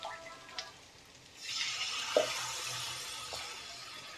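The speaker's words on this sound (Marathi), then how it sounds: "आता याच्यामध्ये थोडं पाणी टाकून घ्यायचं आहे।" Water poured into a pan of flat bean (ghevda/val papdi) curry, a soft rushing splash rising after a quiet start and running steadily for a few seconds with small drips, no talking.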